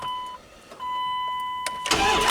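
A Dodge Super Ram truck is started from cold: a few electronic chime tones sound first, then the engine cranks and catches with a loud burst near the end.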